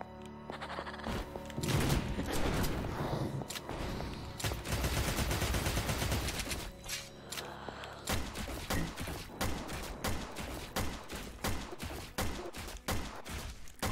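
Gunfire in the horror video game Evil Tonight, with rapid bursts of loud, close shots in a dense volley, a pause, then a quicker run of sharp, evenly spaced single shots.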